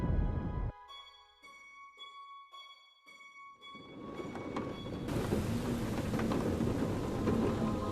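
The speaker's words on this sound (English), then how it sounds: "Outside, the storm ripped." Rain and a building thunderstorm in the video game A Fisherman's Tale: quiet chiming tones give way to a swelling roar of heavy rain that fills the last few seconds, steady and loud, with no talking.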